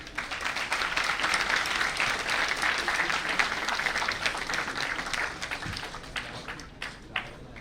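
At a national conference for chartered accountancy students, a large audience claps in a dense, sustained round of applause that gradually thins, with a few sharper individual claps standing out near the end.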